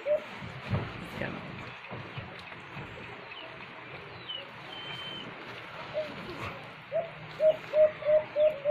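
White-eared brown doves in a cage, soft repeated cooing near the end over faint background noise and other birds chirping.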